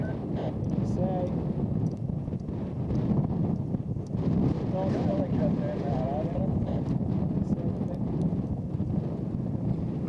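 Strong wind buffets the microphone at a paragliding launch site on Monte Leco, Genoa, a steady low roar throughout with voices talking over it.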